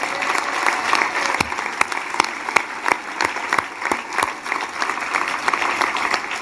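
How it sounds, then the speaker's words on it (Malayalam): An audience at the Kottarakkara Christian convention applauds the programs so far, a dense steady wash of clapping with a few sharp individual claps standing out, continuing evenly without voices on top. "നമുക്കൊന്ന് ഉറക്കെ ഒന്ന് കൈയടിക്കാം ഇതുവരെ നടന്ന എല്ലാ പ്രോഗ്രാമിനും വേണ്ടി ഒരു നല്ല കൈയടി"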